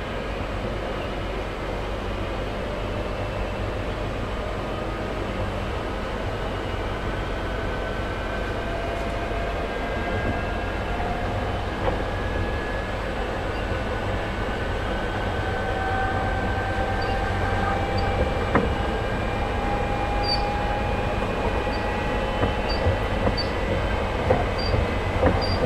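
Class 323 electric train running between stations, a steady loud rumble of wheels on rail with a rising motor whine throughout, and faint ticks and a brief squeal near the end.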